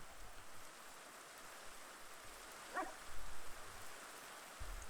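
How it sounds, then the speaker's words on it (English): Steady video game rain hisses evenly throughout, with a short muffled bark partway through, and no talking. "You can hear the rain kind of coming and going."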